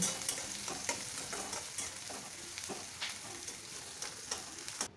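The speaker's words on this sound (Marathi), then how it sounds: "कांदा चांगला गुलाबी रंग येईपर्यंत आपल्याला परतून घ्यायचा आहे" Two large finely chopped onions sautéing in a pan, a faint constant hiss of frying with frequent light stirring scrapes and clicks, close but quiet, no talking.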